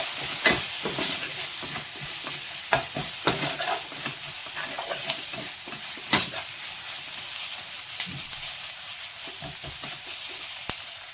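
Potatoes with garam masala and cumin-pepper powder are stirred in a pan for potato fried rice, with scattered scraping strokes and clinks of the spoon over a soft, steady sizzle.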